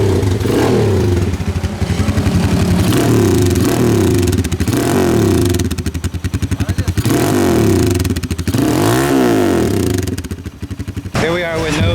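A motorcycle fitted with a new Orion exhaust and no silencer revs hard and close. Loud, raspy, crackling bursts rise and fall in several throttle blips, with brief idles between them and people talking at the end.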